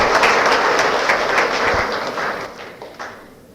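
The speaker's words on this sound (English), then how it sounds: "please give a big round of applause to this team" Audience at a conference valedictory ceremony gives a dense round of applause, many hands clapping loudly at first and then gradually tapering off.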